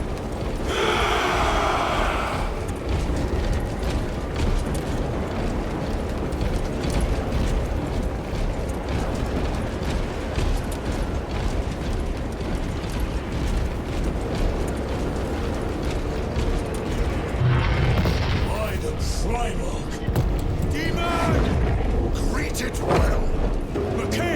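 Battle din from a Warhammer 40,000: Space Marine 2 cinematic, continuous gunfire and blasts under a constant roar, with a sharp burst at the opening and another near the end, voices talking over it.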